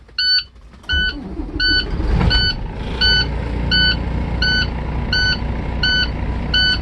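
A truck engine idles loudly through a safe start in an automatic cab while a sharp electronic beep repeats at a regular pace over the steady drone.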